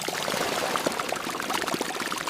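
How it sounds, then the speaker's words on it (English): Spirit poured through a funnel into the open bunghole of an oak barrel in a distillery cellar, a steady gurgling splashing stream with small droplet pops, continuous and close. "Spirit is poured through a funnel into the open bunghole of each barrel."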